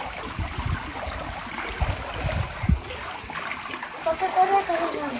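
A young boy swims on his own at a Kuşadası holiday spot, producing soft, intermittent splashes and water sloshing over steady background ambience, with people talking nearby.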